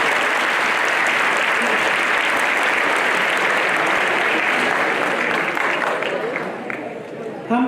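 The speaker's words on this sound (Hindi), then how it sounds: "इसलिए दोनों के लिए ताली हो जाए।" Sustained applause from the audience at a school's 75th Republic Day celebration, dense steady clapping filling the space for several seconds before thinning slightly near the end, with faint voices underneath.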